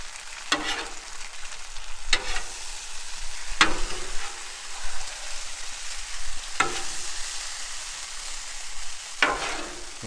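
Chicken and shrimp fajitas stirred on a hot Blackstone griddle, a steady close sizzle broken by four sharp scraping spatula strokes spaced a couple of seconds apart.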